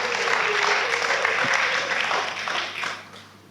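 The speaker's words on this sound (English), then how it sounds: "you had to work for a round of applause" An audience breaks into a round of applause, dense steady clapping that holds loud for a couple of seconds and then tapers off toward the end, heard alone without talk.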